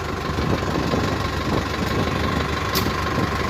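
A tractor works at a roadside site under a bridge, loading piles of soil: a steady, close engine drone with continuous low rumble and vibration throughout, no voices.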